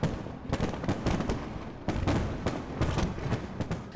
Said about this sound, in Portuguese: Na Austrália, o show de fogos de artifício aconteceu sobre a ponte da Baía de Sydney